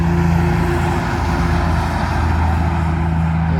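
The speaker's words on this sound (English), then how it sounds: "Another truck coming through, so I'll be quiet so you can hear it." A truck passing on a wet road, a broad loud rumble and rushing tire noise with a steady low engine tone, close and sustained throughout without talk.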